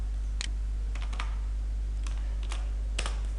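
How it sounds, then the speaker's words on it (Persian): Typing on a computer keyboard while entering text in a word processor, scattered individual keystrokes and short clusters of taps, close and crisp over a steady low electrical hum, with no talking. "به این شکل مثلا ما یک متن تایپ میکنم"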